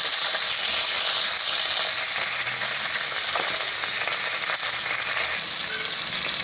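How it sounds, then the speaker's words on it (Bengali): Tilapia fish frying in hot oil for a Bengali mustard curry, giving a loud, steady, dense sizzle that runs unbroken throughout with no talk. "লাল লাল করে মাছগুলো ভেজে নিতে হবে।"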